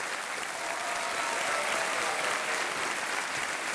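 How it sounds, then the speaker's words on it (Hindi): Dense, steady studio audience applause fills a Hindi TV quiz show, Kaun Banega Crorepati season 7, loud and continuous throughout with no break. "तालियां बजती रहनी चाहिए देवी और सज्जनों।"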